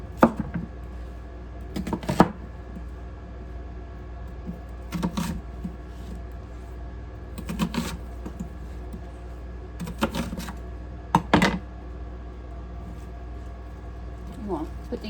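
Knife chopping roasted peppers and jalapeños on a cutting board for homemade salsa, sharp clustered taps in short bursts a few seconds apart over a low steady background hum.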